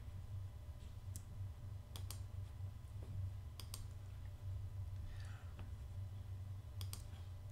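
Mouse clicks from someone working a clone tool in photo editing software, a handful of sharp, faint, scattered clicks over a low steady hum, with no talk.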